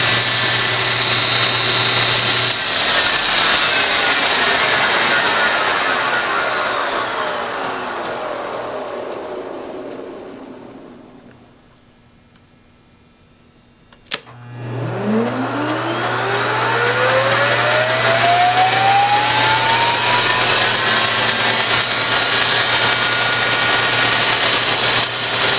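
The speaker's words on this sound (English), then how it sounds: "You can start and stop your spindle with the armature and field in any given speed." A Monarch 10EE lathe spindle on a new SCR drive winds down to near silence, then starts and spins back up, its motor whine sweeping in pitch, loud and steady with no talk.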